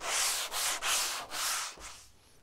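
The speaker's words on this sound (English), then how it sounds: "We would just want to give it a little sand just to rough it up so the paint can bond to this really well." Access panel being roughed up with a medium grit sanding sponge, five close, steady back-and-forth scrubbing strokes followed by a light tap.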